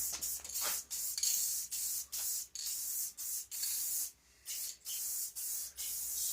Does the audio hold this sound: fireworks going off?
no